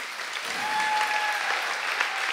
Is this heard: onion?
no